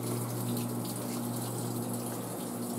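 Water rushes steadily into a Haier HLP21N portable washing machine, a constant loud gushing with a low hum and no pauses.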